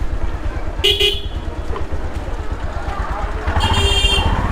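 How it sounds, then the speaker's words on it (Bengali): A horn honks twice from a Bajaj Pulsar motorcycle, a short beep and then a longer blast, over the rumble of its running engine and road noise. "এরে হর্ন দিলাম"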